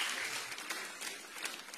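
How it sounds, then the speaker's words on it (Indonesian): Church congregation applauding during a sermon, with a short dense burst of clapping at steady loudness. "Kasih tepuk tangan ya meriah buat Tuhan."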